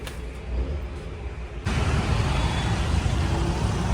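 An auto rickshaw's engine runs with a steady low rumble that jumps louder partway through as it revs or draws nearer, with no talk.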